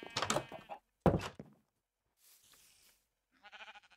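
Sheep being sheared with shears in modded Minecraft: two sharp game clunks a second apart, then a faint rustle and a short wavering sheep bleat, with quiet gaps between.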